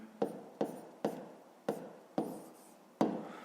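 Numbers written by hand on paper during a fifth-grade maths exercise: six distinct pen strokes, each a sharp tap followed by a short scratch, evenly spaced and close, with no talk.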